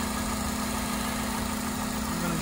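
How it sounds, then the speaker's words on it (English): A car engine idles steadily with a power steering leak, giving a constant low hum with a steady tonal drone and broadband hiss throughout, close and continuous without pauses. "I have a power steering leak, which is why it sounds like this."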